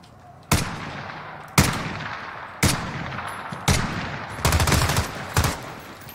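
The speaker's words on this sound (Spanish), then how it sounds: "¿Dónde coño están disparando?" Heavy machine gun bursts in Call of Duty: Modern Warfare, six loud evenly spaced volleys each trailing into a rumbling echo, with a sustained rattling burst near the end and no talk.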